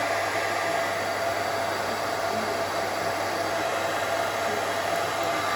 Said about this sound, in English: You get a heat gun on this, hairdryer, sorry.